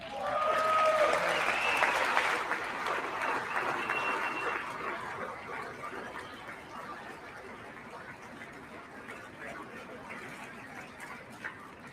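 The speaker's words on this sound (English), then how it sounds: "I wasn't sure if anybody even on this side was going to applaud for that" An audience applauds during Donald Trump's State of the Union speech, a large burst of clapping that starts strong, then slowly thins and fades over several seconds, with scattered voices and a few late claps near the end.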